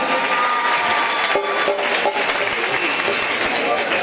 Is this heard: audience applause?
yes